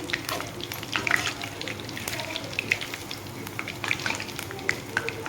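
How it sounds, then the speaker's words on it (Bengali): Palm fruit fritters (taler bora) fry in hot oil with a steady crackling sizzle, soft bubbling bursts popping through the continuous hiss at moderate volume. "এইভাবে আমি লাল লাল করে ভেজে নেব সবগুলো"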